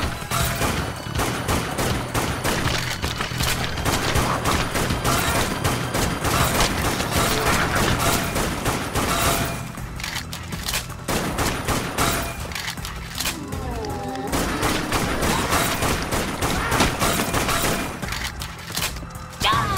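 Sustained SMG and rifle gunfire in the zombie shooter Dead Nation, dense rapid bursts with explosions and crashes layered in game music, loud throughout with only brief dips.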